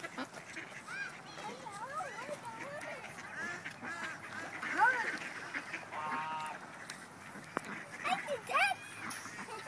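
Ducks at the water's edge quack in scattered bursts, some calls near and others farther off, while people talk over them throughout.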